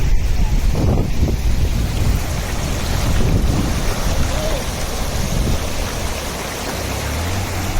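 Overflowing water from Singavaram lake pours over its weir and floods the road, heard as a broad, steady rushing roar with wind buffeting the microphone.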